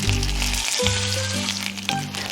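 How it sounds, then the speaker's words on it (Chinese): An Italian pork roll sears in a hot oil-slicked pan, giving a steady loud sizzle throughout with a brief dip and a low rumbling undertone, no voices present. "把油比较多的地方稍微煎一下，把它表面都煎香之后，我们就直接进烤箱"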